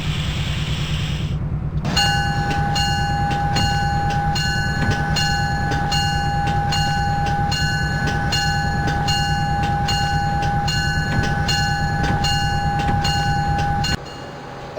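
An Acela Express train departs in the OpenRails simulator: a steady low rumble of the moving train under a long, loud sustained horn blast that holds for about twelve seconds and then cuts off.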